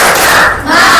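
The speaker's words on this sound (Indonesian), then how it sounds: "kita tepuk semangat supaya hari-hari kita terus semangat" A school class chanting a rhythmic spirit clap cheer together at the close of a lesson, loud and close, with a crowd of young voices shouting in unison throughout.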